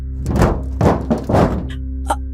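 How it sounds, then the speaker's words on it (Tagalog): Heavy thuds land on the roof of a house, three loud dull blows in quick succession followed by a lighter knock, each one close and booming. "may marinig kaming malakas na lumagabog sa bubong ng bahay"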